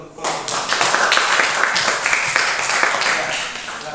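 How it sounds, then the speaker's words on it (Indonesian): A group of students in a classroom claps for a presenting group: dense, continuous, fairly close applause of many hands that holds steady throughout. "tepuk tangan dulu untuk kelompok"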